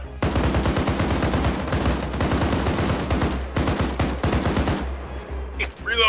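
Rapid machine-gun fire in the Arma 3 video game, a fast, steady stream of close, loud shots that runs almost without a break, with a brief pause near the end.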